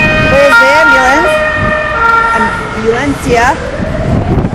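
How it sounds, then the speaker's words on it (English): An ambulance siren wails loudly along a street in Spain, its rising and falling tone sweeping up and down over traffic rumble, with a voice speaking over it. "There's the ambulance."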